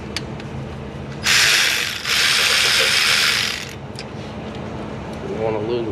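A ratchet with a socket clicks rapidly to loosen nuts on a 2005 LLY Duramax engine, with loud, close bursts of ratcheting that run for a couple of seconds, plus a few lighter metallic taps around them.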